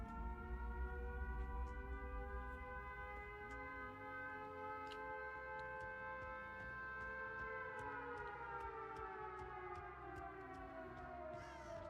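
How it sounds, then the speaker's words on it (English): A long wailing civil-defense-style siren blares in the Dead by Daylight horror game during a spooky void event, its rising and falling tones sustained across twelve seconds with faint ticking clicks, no one talking over it. "Okay, the sirens can stop now."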